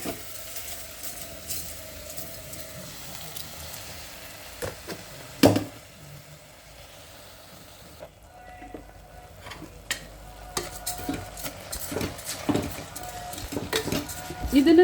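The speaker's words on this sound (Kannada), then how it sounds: "ಈಗ ಈ ತೊಳೆದಿಟ್ಕೊಂಡಿರೋಂಥ ಅಕ್ಕಿನ ಹಾಕ್ತೀನಿ ಅದಕ್ಕೆ" Washed rice is tipped into a hot tempering in a pan for lemon-tomato rice and stirred: close metallic scraping and clattering of a spoon against the pan, with a few sharper knocks and a light sizzle underneath.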